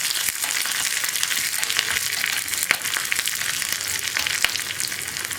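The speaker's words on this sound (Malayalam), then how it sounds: "ഇനി ഉള്ളിയുടെ കളർ മാറി വരുന്നത് വരെ നമുക്കൊന്ന് ഇളക്കി കൊടുക്കാം" Onions with dried red chillies and curry leaves fry in oil for a carrot dal curry, giving off a steady, close sizzle with faint scrapes and clicks of stirring.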